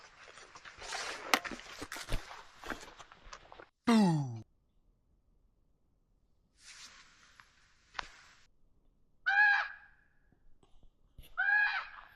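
Crows call out in a few harsh, harmonic caws, spaced apart and heard at a moderate distance, against quiet outdoor morning background noise.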